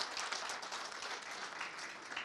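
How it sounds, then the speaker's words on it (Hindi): An audience at an awards event on tuberculosis applauds a TB champion with a steady, soft wash of many hands clapping, moderately distant and without speech. "चैंपियन के लिए तो तालियां होनी चाहिए"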